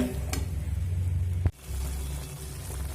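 Masala with cashews and melon seeds being stirred and sautéed in a pan over a medium flame, a steady low sizzle with scraping stirs and one sharp clank partway through, close and alone.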